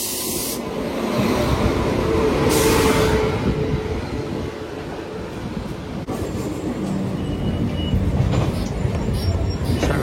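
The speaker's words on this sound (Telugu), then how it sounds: "ఇప్పుడే ఒక ట్రైన్ అయితే వస్తుంది." A passenger train pulls into a platform at Chennai, its loud, continuous rumble of wheels and carriages filling the scene with hissing, clattering texture and faint squeals, close and sustained throughout.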